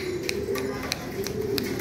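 Soft, low pigeon coos repeat close by in a steady rhythm on a pigeon farm, with a few light clicks and rustles in between.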